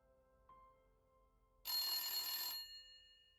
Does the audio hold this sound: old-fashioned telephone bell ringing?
yes